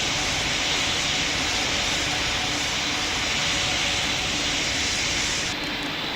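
A jet airliner in Pilot Training Flight Simulator roars with loud, steady broadband engine thrust and a constant whine during its takeoff run, with no letup throughout.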